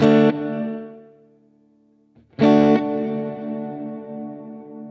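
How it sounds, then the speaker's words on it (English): Two guitar chords ring out heavily processed through an Earthquaker Devices Avalanche Run delay and reverb pedal, each fading slowly into a long, washy reverb tail that lingers after the strum. "So you can hear in the toe position the decay is really long."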